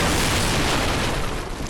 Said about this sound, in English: we got a dude down this path firing at us with a cannon